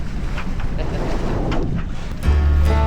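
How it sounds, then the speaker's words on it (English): Strong wind buffets the microphone aboard a Beneteau 56 sailboat pulling into San Pedro, a continuous roaring gust with water wash beneath and a deeper low rumble swelling near the end. "Hurricane Gulch is living up to its name with a little bit of wind"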